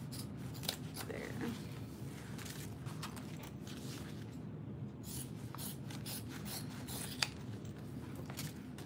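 Scissors snip through excess fabric while trimming a bowler bag during sewing, a steady run of soft rasping cuts with a few sharper clicks, close up and fairly quiet.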